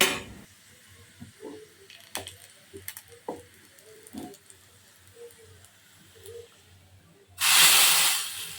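A hot tempering of dried chillies, garlic and black cumin seeds poured into red lentil masoor dal. Quiet scattered clinks come first, then a sudden loud hiss of steam and sizzling near the end.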